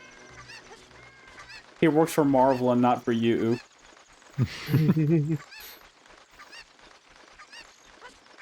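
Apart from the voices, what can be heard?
chicken (cucco) clucking in Ocarina of Time 3D video game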